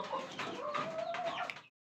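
Chickens clucking and calling inside a poultry coop, a steady busy stream of bird vocalizations close by for about two seconds, with no one talking.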